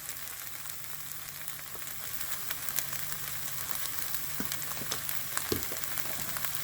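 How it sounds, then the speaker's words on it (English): Onions sautéing with curry leaves in a pan for okra curry, a steady soft sizzle and crackle throughout with a few faint stirring taps, close and even, no voices. "After sauteing the onions for a little while, we're going to add in the coriander powder"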